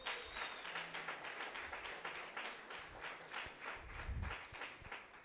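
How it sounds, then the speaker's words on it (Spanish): An audience at an arts and humanities congress session applauds, a dense steady patter of many hands clapping that holds at a moderate level throughout. "Un aplauso otra vez para los compañeros."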